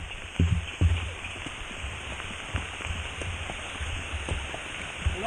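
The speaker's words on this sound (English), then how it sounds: "it really started raining" Rain falls steadily during a horse riding trip in Viñales, Cuba, an even outdoor hiss with scattered drips and a few soft thumps, no voices heard.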